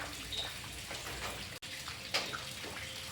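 Water is poured into a cooking pot for jackfruit curry in a village home kitchen, a faint, soft splashing and trickling that runs briefly at low volume, with no one speaking.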